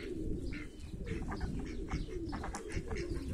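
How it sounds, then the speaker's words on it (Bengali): Many pigeons coo steadily in a flock of about 150 birds kept with ducks and chickens in the Saudi Arabian desert, their overlapping soft calls and occasional chirps close and continuous. "আমার পিছনে অনেকগুলো কবুতর"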